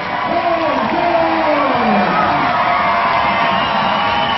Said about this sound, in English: The crowd gives a big Hong Kong welcome to the Sri Lankans